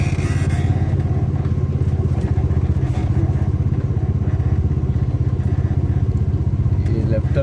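A motorbike or other two-wheeler ridden toward a temple, its engine a loud, steady close putter throughout with slight road rumble and a voice faintly under it.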